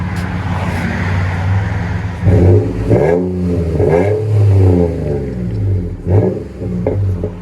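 A 2019 Nissan Frontier PRO-4X with a Flowmaster 40 Series exhaust idles, then revs sharply several times, each rise a loud, deep, throaty roar that falls back to a rumbling idle, with no one speaking.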